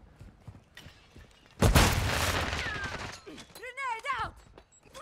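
Gunfire in Call of Duty: Modern Warfare II deathmatch, a sudden loud burst of shots midway that rings out for a second or so, with quieter game sounds and radio-style voices around it.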